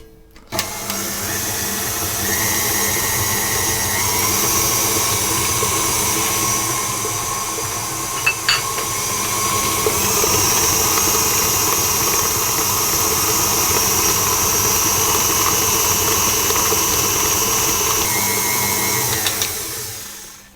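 An electric mixer beats a butter mixture with lemon zest for a cake, giving a loud, steady motor whine that starts abruptly, holds for about twenty seconds with slight shifts in pitch, then cuts off.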